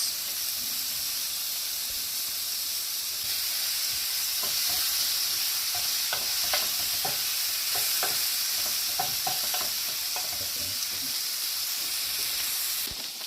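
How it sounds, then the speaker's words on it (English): Bacon fries in a hot pan with a steady, bright sizzle and hiss throughout, plus a scattering of small crackles and pops in the middle, close and continuous without talk. "So I put my bacon in a hot pan."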